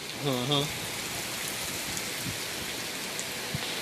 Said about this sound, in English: Dump a gallon of rain